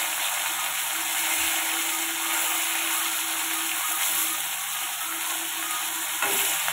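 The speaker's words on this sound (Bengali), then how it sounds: "মাছগুলো আমার ভাজা হচ্ছে, মাছগুলো এক পিট করে হয়ে গেছে" Bhola fish frying in oil gives a continuous close crackling sizzle, steady and fairly loud throughout, with a brief clunk near the end.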